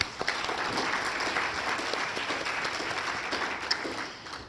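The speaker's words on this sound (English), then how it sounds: "Let's give them all a nice round of applause." A crowd claps steadily, a sustained round of applause with no pauses.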